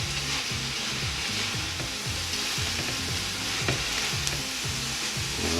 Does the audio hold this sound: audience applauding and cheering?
no